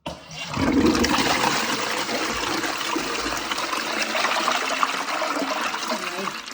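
A household toilet flushes with a loud rushing gush that settles into steady close swirling and trickling water for several seconds, with no talk over it.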